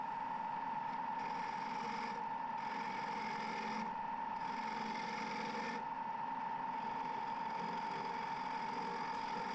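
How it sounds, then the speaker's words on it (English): A wooden bowl is reverse hollowed on a lathe with a gouge, a faint steady motor whine under soft intermittent scraping passes that start and stop several times. "So we're doing a bit of reverse hollowing."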